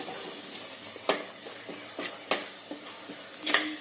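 Kottayam-style fish curry masala is stirred and fried in a pan: a soft, steady sizzle with irregular scraping clicks from the spoon against the pan, close and fairly quiet.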